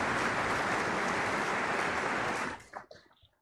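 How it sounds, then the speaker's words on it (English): Dense, steady applause from a graduation ceremony audience fills the space for about two and a half seconds, then thins out into scattered final claps and fades to near silence. "Please give them a round of applause."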